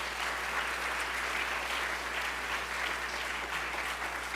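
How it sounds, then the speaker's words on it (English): A large audience at a university math fair gives a sustained round of applause for the event volunteers, even and dense throughout, with a steady low hum underneath. "Please give all of them a round of applause."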